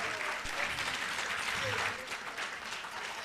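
An audience at a women's leadership forum keeps clapping for an arriving guest of honor, a fairly soft, steady patter of many hands with some murmured voices underneath.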